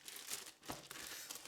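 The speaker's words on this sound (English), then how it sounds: "So let's open together the packaging, from starting with this plastic bag" Plastic bag packaging around a new GoPro 3-Way grip, arm and tripod being handled and opened, giving soft close crinkling and rustling in short bursts with a brief sharper tear near the middle.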